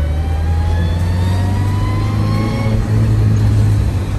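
A 1976 Toyota Celica RA2 engine hums steadily while cruising, its low, even drone loud and close with faint rising tones over it and no talking.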